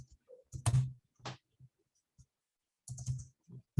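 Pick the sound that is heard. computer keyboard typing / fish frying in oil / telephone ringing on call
computer keyboard typing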